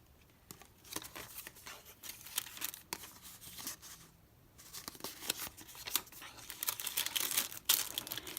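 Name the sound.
handling a glassine bag of paper images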